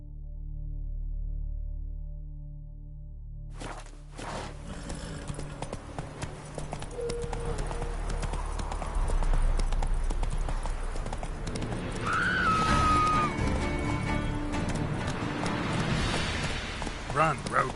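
Roach, a horse in The Witcher video game, gallops with rapid, rhythmic hoofbeats that start after a low rumble and carry through to the end, with a voice speaking briefly over the hooves.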